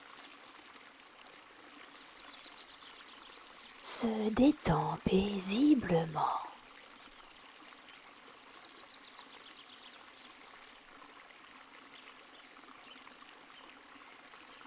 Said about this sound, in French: Le murmure de la rivière devient ta respiration. À chaque inspiration, tu entends l'eau avancer